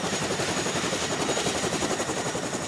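Steady, loud helicopter rotor thrum with a rapid chopping pulse, continuous throughout with no voices, from a helicopter flying military supply missions in Afghanistan.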